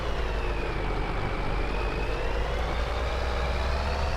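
Loud, close truck engine in Farming Simulator 22 pulling steadily, its whine rising gradually in pitch as it accelerates slowly through a gear, continuous with no voices.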